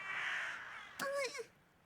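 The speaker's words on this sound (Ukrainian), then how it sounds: "Посеред білого дня ворони викрали." Crows cawing in the video game Little Misfortune: a hoarse, drawn-out caw followed by a quick pair of harsher calls, fairly close and clear over a quiet background.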